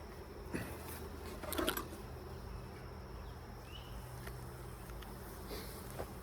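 Honeybees around hive frames while a queenless colony is set up: a faint, steady insect buzz, fairly distant, with a couple of brief louder passes as bees fly close.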